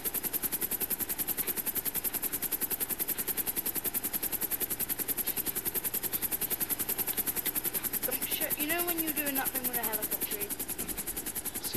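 Helicopter in GTA V Online, a steady rapid rotor chop that runs loud and unbroken throughout, with brief voice-like tones rising over it near the end.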